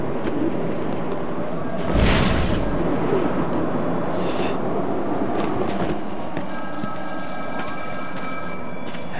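A phone rings in the Batman: Arkham City video game, thin repeating bell tones over a rumbling city ambience with a loud burst near the start, no one speaking.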